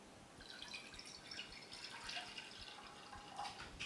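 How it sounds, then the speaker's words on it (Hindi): Two cups of water poured into a pan for a herbal kadha, a faint continuous trickle and splash with small drips, quiet and close, no voice. "तो एक पैन में डालेंगे हम 2 कप पानी।"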